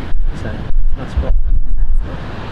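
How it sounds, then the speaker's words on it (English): Gusty wind at Perlubie Beach, South Australia, buffets the microphone in low rumbling bursts, rising and falling across the moment, with faint open outdoor ambience underneath. "Still a bit of wind. It's just windy,"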